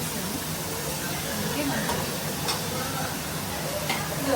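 Tomatoes frying in oil for a chicken curry give off a steady broadband sizzle and hiss, with faint stirring scrapes mixed in throughout.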